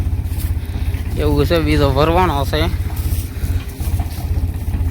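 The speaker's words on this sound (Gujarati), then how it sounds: "આપણે ટ્રેક્ટર આવી ગયું છે વાડીમાં" A tractor engine runs in a farm field with a steady, close, rapid thumping pulse throughout, while someone talks over it for a couple of seconds.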